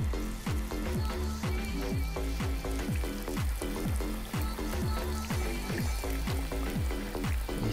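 A breaded ribeye milanesa coated in panko sizzles in a frying pan, a dense, steady crackle of hot oil with fast regular pops throughout and no voices.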